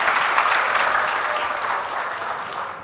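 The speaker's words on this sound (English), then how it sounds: "Give applause to Master of Ceremony." An audience claps for the master of ceremonies at a morning event, a dense, steady patter of many hands that holds evenly and then begins to taper slightly toward the close.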